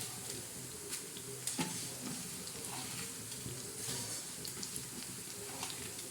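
Whole spices and coriander seeds roast in a pan, a steady dense crackle and sizzle with small pops and stirring scrapes throughout, close up and without talk.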